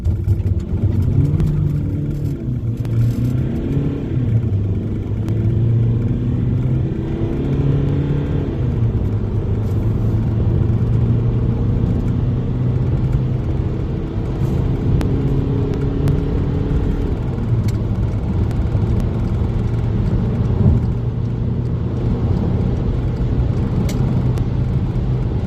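A car engine in sport mode roars and rumbles continuously, with rising revs and gear changes as the vehicle speeds up to 100 mph, heard from inside with no talking.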